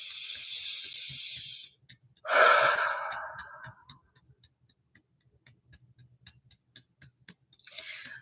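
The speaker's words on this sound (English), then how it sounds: "Let's go ahead and take a deep breath." A single deep breath during a calm EFT tapping session: a long steady breathy inhale, a pause, then a louder rushing exhale that fades out, close to the microphone with no talking, followed by faint small clicks.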